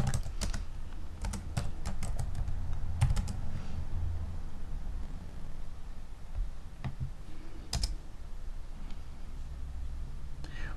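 Fingers typing on a computer keyboard, bursts of quick, crisp key clicks with short pauses between runs, close and clear over a low steady room hum, no talking.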